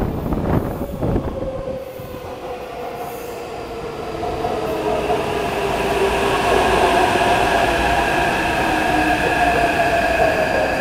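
Taipei Metro C371 train bound for Xindian at Dapinglin station: loud rumbling railcars with rising and falling whining wheel squeal and motor tones building steadily as the train moves through the platform, close by, no voices.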